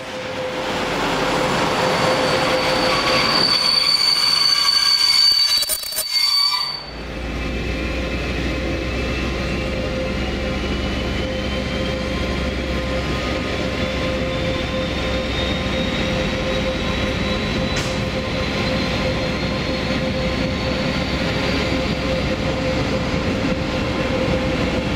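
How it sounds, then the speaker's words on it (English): A locomotive-hauled passenger train bound for Hamburg pulls into a station, its engine first delivered in 1996; a steady loud rumble and rolling wheel noise continue throughout, with a brief louder surge and rattle early on before the train settles into a constant drone. "locomotive number 1, which was delivered new on the 11th of March 1996, arrives with a service for Hamburg"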